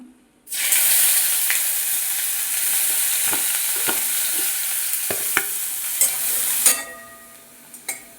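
Steady loud sizzle of chopped onions frying in hot oil with cardamom and cloves, occasional stirring clinks, ending abruptly as the sizzling dies down.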